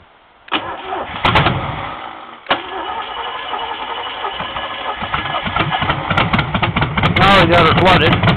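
An old 283 Chevy V8 cranks, stumbles and catches, then settles into a rough, loud idle that rises in revs, with a voice talking over it.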